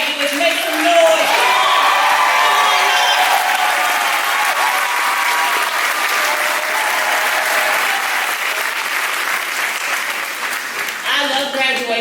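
Graduates at a T-Shirt Academy ceremony cheer and applaud loudly, a dense, sustained roar of clapping and shouting that fills the room before easing slightly, with a voice rising over the crowd at the end.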